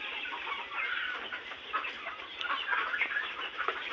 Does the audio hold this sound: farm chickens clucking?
yes